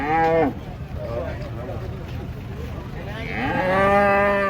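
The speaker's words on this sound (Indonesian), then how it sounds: "Sapi ini giras kok." A cow moos loudly nearby as it comes off a truck, a long low call at the start and another toward the end, with some background murmur between.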